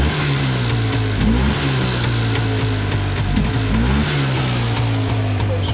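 A two-stroke engine runs close by and revs several times, its pitch rising and falling over a steady engine note.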